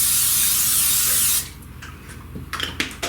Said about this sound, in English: I'm going to spray the inside of it with a little non-stick spray.